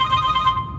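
A phone ringtone sounds for an incoming call, a short bright electronic tone held close and loud for half a second before cutting off, with no voices.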